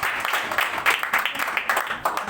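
A church congregation claps vigorously during a Christmas service, a dense, continuous patter of many hands at moderate loudness with slight surges.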